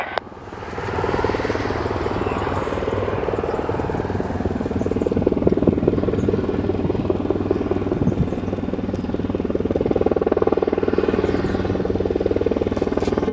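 A Bristow Sikorsky Helibus helicopter at an airport in St. Kitts runs close and loud, its engine whine and rotor thump forming a sustained roar that swells slightly midway and holds steady to the end.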